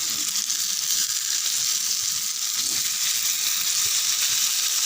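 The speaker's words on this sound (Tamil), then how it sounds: "சூப்பராக மீன் வறுத்துடலாம்" Fish frying in a pan of oil, a dense, constant loud sizzle with a faint bubbling undertone, close and unbroken, with no one speaking.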